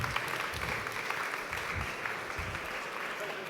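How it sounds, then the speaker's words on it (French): An audience at a Paris Retail Week panel discussion applauds steadily, a dense wash of clapping from many hands at moderate loudness, unbroken through the short stretch. "Veuillez les applaudir."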